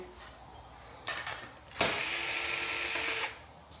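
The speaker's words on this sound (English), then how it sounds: "Get your right size bit again. And remove those." A power driver with a bit backs screws out of a FloatWheel ADV rail. A short, weak buzz comes first, then a loud, close whine that runs steadily for about a second and a half before it stops.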